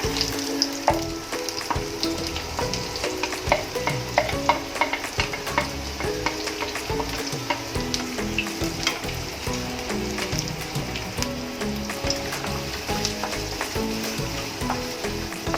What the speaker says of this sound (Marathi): आपलं तेल तापलं आहे कांदा घालूया